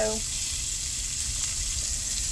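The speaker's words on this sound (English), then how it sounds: "we're just going to saute this onion up" Chopped onion sautéing in hot oil as the start of a gravy, giving a steady close sizzle with a continuous bright hiss throughout.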